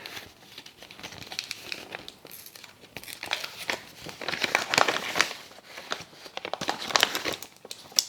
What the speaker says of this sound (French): Alors on va du coup déceler l'enveloppe numéro 2 et voir un peu ce qu'il y a dedans